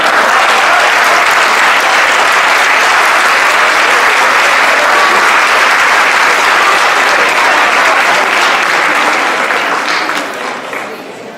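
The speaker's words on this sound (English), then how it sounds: "One more round of applause as they exit." Audience applause fills a school board of education meeting as honorees leave the room, a dense, steady wash of clapping that holds loud for about ten seconds before tapering off at the end.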